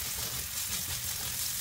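Onion and ginger sautéing in hot cooking oil: a steady, close, hissing sizzle that holds evenly throughout, with no talking.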